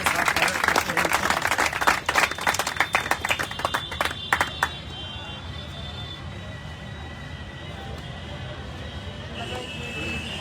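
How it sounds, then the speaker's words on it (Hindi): A crowd at an outdoor political rally at Kargil Chowk in Bankipur claps loudly to welcome a speaker. The crisp applause lasts about four seconds, then fades into a quieter murmuring background. "तालियों के साथ स्वागत करते हैं।"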